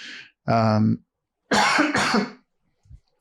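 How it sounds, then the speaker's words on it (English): Several harsh coughs and throat-clearing bursts from a man recovering from COVID come in quick succession, close and loud, separated by short silences. "Sorry, I'm coughing a lot."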